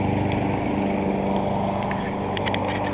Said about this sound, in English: Mowing their lawn.